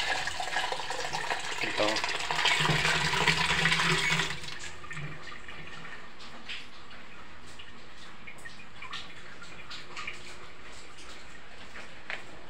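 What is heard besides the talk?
running water being fetched for a pet dog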